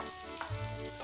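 Green asparagus sizzles in olive oil with garlic in a pan: a brief, close, bright frying hiss with a slight low crackle partway through.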